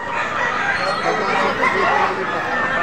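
Rooster crowing amid a busy poultry market in Padre Garcia, Batangas, with dense clucking from many chickens forming a continuous, loud, close wash of fowl noise throughout.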